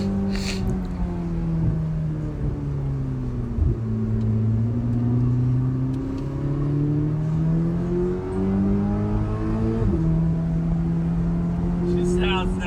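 Twin turbo Corvette ZR1 engine accelerating hard from inside the car, a loud droning roar climbing in pitch through repeated gear shifts, each upshift dropping the tone before it rises again, with brief excited voices.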